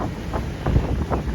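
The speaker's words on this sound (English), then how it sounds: "A little windy." Gusty wind buffets the microphone beside Lake Okeechobee, a rumbling low roar that swells and dips in short puffs over a boat's background noise.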